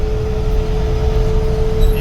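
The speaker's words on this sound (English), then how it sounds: "You can hear some wind noise." Wind noise fills the cabin of an old GMT800 Suburban 2500 while driving, a steady low roar with a faint constant tone running through it, loud and unbroken for the moment.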